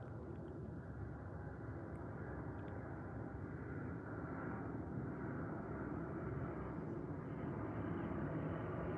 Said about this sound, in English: Where another plane is coming.